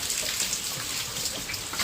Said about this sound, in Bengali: বাইরে কি বৃষ্টি হচ্ছে হ্যাঁ বিশাল বৃষ্টি হচ্ছে